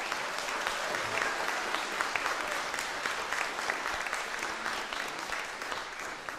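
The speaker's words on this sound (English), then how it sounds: "Can I get another round of applause for our trumpet section there?" An audience at an outdoor big band jazz concert applauds the trumpet section, with a full, sustained burst of clapping and scattered sharper claps throughout, no talk over it.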